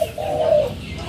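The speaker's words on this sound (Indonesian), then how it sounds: "ditemani oleh suara burung tekukur punya pemilik warung" A turtledove kept at a village coffee stall gives one close, soft, hollow coo lasting under a second, with faint outdoor rural ambience around it.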